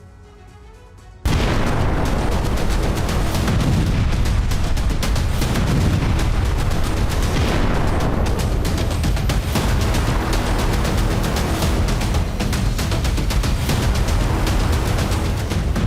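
Continuous heavy explosions and booming blasts in Gaza roar loudly after a brief quieter start, dense and rumbling throughout with crackling bursts layered on top.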